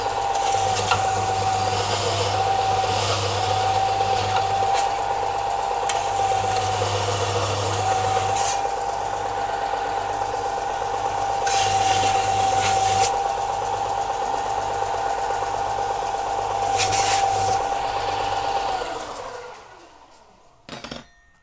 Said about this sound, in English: I'm just going to give this a bit of a going over with my bench sander